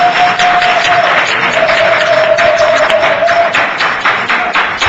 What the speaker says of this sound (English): Everybody applaud Craig.